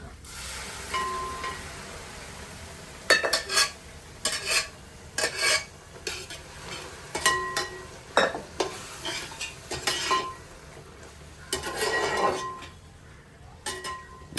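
Scraping and clattering in a frying pan as boiled beef is added for stew, with a light sizzle underneath, a run of stirring strokes and knocks spread across the clip.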